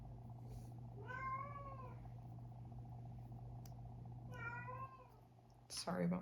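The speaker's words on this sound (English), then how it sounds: "Sorry about my cat, guys." A house cat meows twice indoors, each call drawn out with a falling pitch and separated by a few seconds over a steady low room hum, followed by a short clatter.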